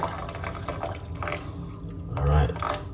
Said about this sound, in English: So 1 cup of hot water.